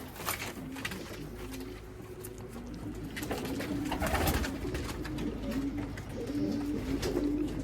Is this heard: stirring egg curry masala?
no